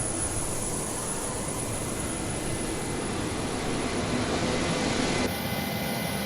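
A Boeing 727-200 freighter's jet engine spools up in a flight simulator, a steady loud roar with a high whine, unchanged in level throughout.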